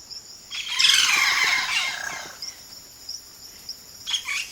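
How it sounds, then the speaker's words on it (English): Loud, squealing bird calls sweep and warble close by for a couple of seconds, followed by quieter chirps and a short final squeak. "A single bird can sound like a chorus."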